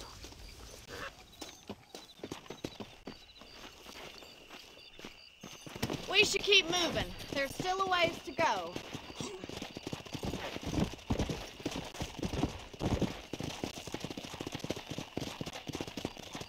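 Horses' hooves clip-clop steadily in Red Dead Redemption as riders set off across a ranch, the rhythmic footfalls growing louder after a quiet start, with someone talking over them.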